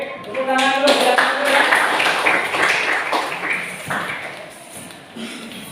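Students clapping their hands together in a classroom at the close of a group presentation, a dense patter of hands mixed with scattered voices and a few chiming tones, fading slightly toward the end.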